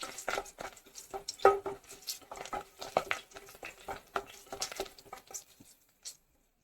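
A spoon scrapes and stirs fennel seeds and curry leaves sizzling in a pan for green peas curry, giving irregular close-up clinks and scrapes over a soft frying crackle, with no talking.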